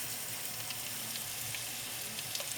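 Garlic sizzling in hot oil in a pan at the start of a Chinese-style broccoli stir fry with oyster sauce, a steady close crackle that holds evenly throughout the short stretch.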